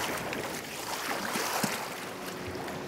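A cartoon speedboat roars across the water in a steady, unbroken rush of engine and spray, loud and close for the whole stretch.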